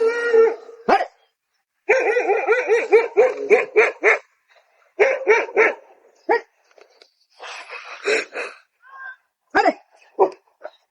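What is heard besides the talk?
dogs barking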